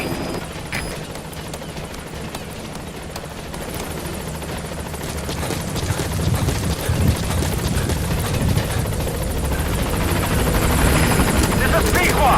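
A B-Quad helicopter in Metal Gear Solid V approaches a landing zone, its rotor a steady, dense thrum that grows louder and closer throughout, with game radio voices over it.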